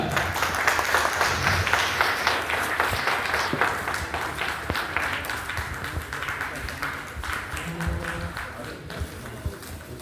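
Loud applause from a crowd at a provincial convention in Haridwar, dense clapping that starts strong and gradually thins out over ten seconds, with some voices audible toward the end.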